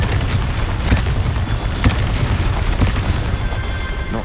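A Confringo fire spell bursting in Hogwarts Legacy, heard as loud booming explosions over a roaring game backdrop, with three sharper blasts standing out at roughly one-second intervals.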